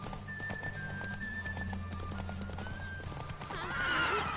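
Horse hooves clip-clop steadily while riding in the Witcher 3 video game, under an ambient game soundscape with a horse's whinny rising toward the end.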